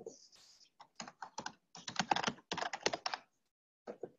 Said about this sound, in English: And now I'm going to type